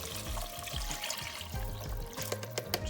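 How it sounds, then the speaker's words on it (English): Water, about a quart, pours into a soup pot of sautéed aromatics in a steady splashing, gurgling stream, close and continuous for a few seconds, with no talking. "We're gonna add some water."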